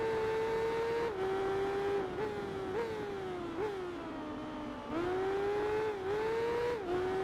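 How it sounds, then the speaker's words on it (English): A motorcycle engine in the Tourist Trophy racing game screams at high revs, its whining tone climbing and dropping with several gear shifts, loud and continuous. "we hear the high revviness"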